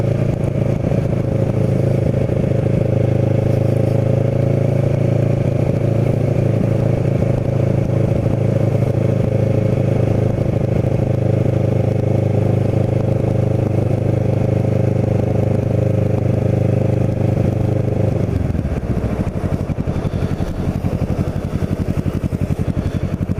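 A motorcycle rides steadily on a ride from Douglas Park toward Cape May, its engine drone loud and continuous for about eighteen seconds before the tone shifts and settles lower as it slows, with wind rumble throughout and no talk.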